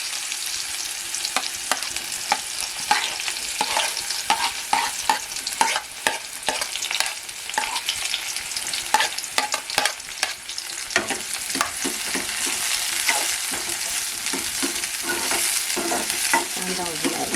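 Mustard seeds and onion frying in hot oil for a banana stem vegetable dish, a steady close sizzle broken by crackling pops and repeated scraping stirs throughout, with no talking.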